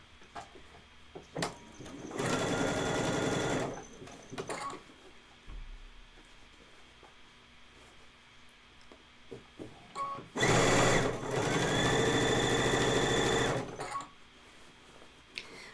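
A sewing machine stitches continuous bias binding in two sustained close bursts of steady whirring, each lasting a few seconds and separated by a quiet pause broken by light handling clicks.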